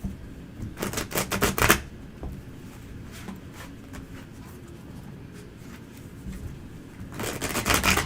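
A deck of tarot cards is riffled in two bursts of rapid crisp clicks, one at the start and one at the end, with quieter rustling and soft handling between them.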